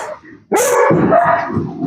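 A dog barks sharply and close after a quiet moment, then keeps up agitated, whining barks, set off by monkeys on the roof.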